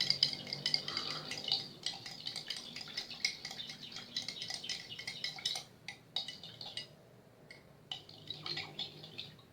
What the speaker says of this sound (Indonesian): aduk hingga larut